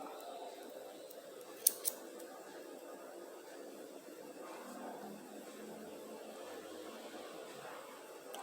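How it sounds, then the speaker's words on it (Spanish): Scissors snip through yarn coming off a skein for crochet slippers, two quick sharp cuts close together, close and crisp against a quiet room hiss. "Voy a cortar esta lanita que viene de la madeja."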